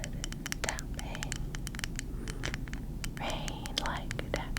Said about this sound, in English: Little wood tapping,